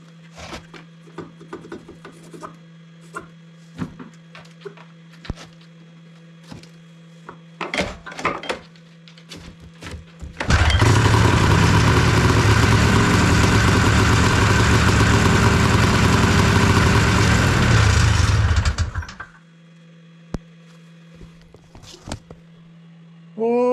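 A DIY 277cc engine on a firewood machine at an off-grid cabin starts after scattered clunks and handling noises, then runs loudly and roughly for about eight seconds before cutting off to quiet knocks.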